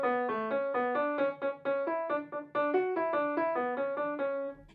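Piano figure from Bach's A-major fugue BWV 888 with a note repeated in place of a tie, a steady stream of quick, evenly spaced notes under a moving upper line, moderately soft and unaccompanied by talk.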